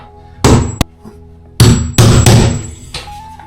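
A hammer strikes a nail into timber in a few loud, ringing metallic blows with short gaps between them, close and sharp against a quiet room.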